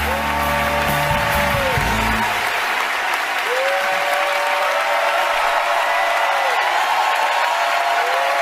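Sustained applause from a large theatre audience at the Tony Awards, a dense steady roar of clapping that fills the whole stretch at a loud, even level, with a brief low rumble at the start.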